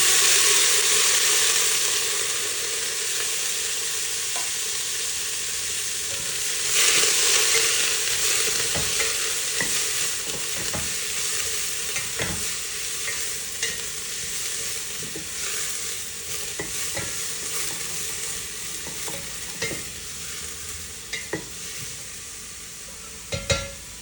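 Bottle gourd and curry leaves frying in a pot, a loud sizzling hiss with a brief burst partway through, then repeated stirring scrapes and clinks of a spoon against the pot.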